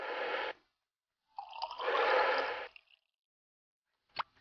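In the adventure game Runaway: A Road Adventure, water is poured into a container in short gushing bursts separated by silence, ending with a brief drip-like splash.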